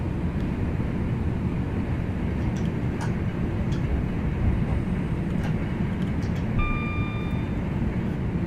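Train driving on the Glossop Line in Train Sim World 3, heard as a constant low rumble of rolling wheels and motor, with faint clicks and a brief high tone partway through.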